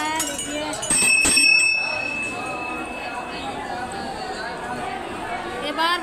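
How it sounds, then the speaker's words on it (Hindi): Temple bells rung again and again during a religious ceremony at a Hindu temple, clear bright tones ringing out near the start over a dense crowd of chattering voices and general bustle. "ये बार बार घंटियाँ बजा रहे हैं।"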